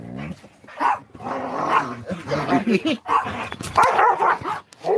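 Several dogs, one small one barking and yipping repeatedly in short bursts, with people talking close by throughout.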